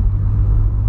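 Polo TSI engine roaring steadily up close, a deep continuous rumble held through the brief moment with no voices.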